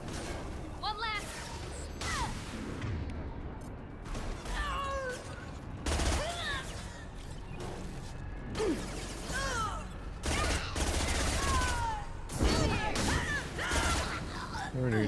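Repeated SMG gunfire bursts in the video game Mass Effect 2, on Insanity difficulty, loud and close, set among chaotic combat noise with alien cries and crashes.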